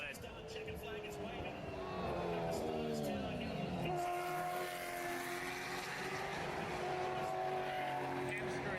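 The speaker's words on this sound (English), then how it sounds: "Here's the cars coming back into the pits" Supercars race cars rolling back into the pits at the Australian Grand Prix after qualifying, a steady loud engine and mechanical drone with shifting whine tones, under a voice talking throughout.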